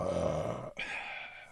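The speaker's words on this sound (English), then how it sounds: "I had to get my gratuitous burp out for you." A man lets out a short, throaty burp, a guttural rumble lasting under a second, followed by a breathy exhale, heard close and alone.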